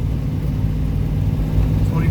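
A car engine holds steady at around 3,000 RPM, a loud, even drone heard from inside the cabin, with a voice speaking over it.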